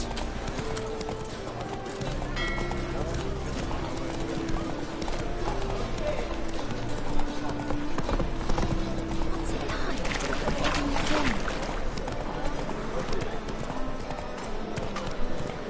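Roach, the horse from The Witcher 3 on Death March difficulty, gallops with steady rapid clip-clop hoofbeats throughout, over game music and ambient sound, with a voice speaking over it.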